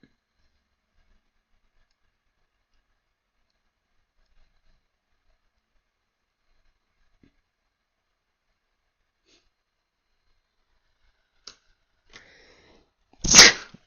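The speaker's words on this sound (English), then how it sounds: "Oh, I sneezed." A single loud, sharp sneeze bursts out at the end after a long near-silent stretch with a few faint clicks.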